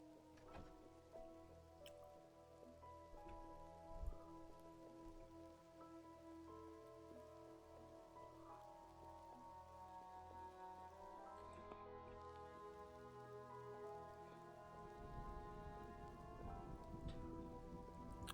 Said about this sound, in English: Ah, because rain.